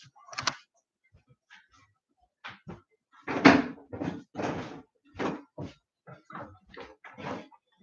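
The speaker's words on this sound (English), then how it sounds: "I have to unlock my back door" Back door being unlocked and opened: a series of clicks, knocks and rattles from a lock and handle, close by with short gaps, ending in a few firmer thumps.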